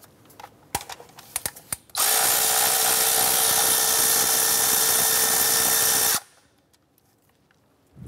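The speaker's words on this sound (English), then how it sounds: "Using our 10 millimeter socket, let's go ahead and remove our bolt here." A 10 mm socket on a ratchet removes a bolt from a 2008-2012 Honda Accord 2.4L engine. A few sharp clicks come first, then a loud, steady mechanical whir runs for about four seconds and stops abruptly, all close by.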